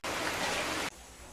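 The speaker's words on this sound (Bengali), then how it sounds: "পরিমাণে বৃষ্টি হচ্ছে, তাই একটু শব্দ হতে পারে" Rain pours down in a dense, loud hiss that cuts off abruptly partway through, leaving a faint background wash.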